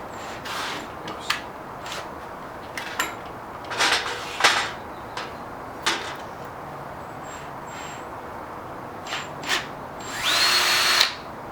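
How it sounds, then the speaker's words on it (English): A cordless drill bores pilot holes for homemade go-kart bumper brackets in short, repeated whirring bursts with pauses between, ending in one longer, louder run. "Using my cordless drill because it'll be nice and easy."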